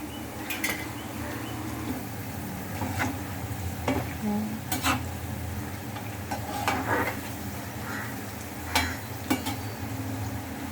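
Cauliflower cooking in masala in a pan, with a continuous sizzle and bubbling under repeated scraping and clinking stirs at irregular intervals, close and fairly loud, no voices.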